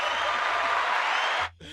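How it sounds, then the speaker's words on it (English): A short burst of clapping, loud and broadband, holds steady for over a second and then cuts off abruptly into near silence. "Give her an applause."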